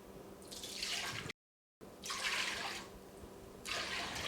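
Low sodium soy sauce poured into a pot in a soft, close liquid stream, broken by a brief silent gap and then resumed.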